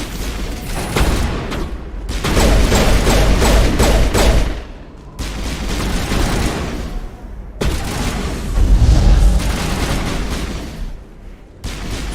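In the Mass Effect Legendary Edition video game, dense bursts of gunfire and booming explosions come loud and close in three long volleys separated by short pauses.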